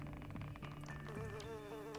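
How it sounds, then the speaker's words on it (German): A fly buzzes in the video game Strange Cases 3, a steady insect drone with a shifting, wavering pitch that runs continuously for about two seconds at moderate loudness with no talk over it. "Hier ist eine Fliege."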